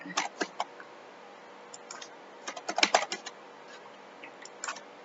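Bursts of quick key presses on a computer keyboard while entering a Microsoft Excel formula, close and crisp, with short pauses between clusters of clicky taps and a denser flurry midway.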